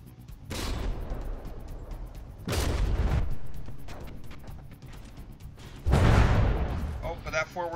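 Naval shells fire and detonate in the warship battle game From the Depths, with several heavy booms and rumbling blasts spaced across the clip among scattered crackling impacts, heard beneath ongoing talk.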